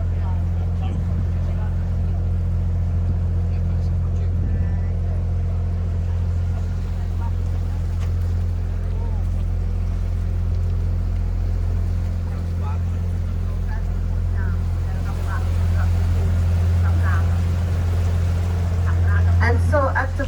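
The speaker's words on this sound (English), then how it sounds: "at the moment we are sailing on the canals we call Rijen" Canal cruise boat gliding along the Rijen canals of Bruges, its motor a steady low drone that runs the whole time beneath a voice talking over it, with faint water and street ambience.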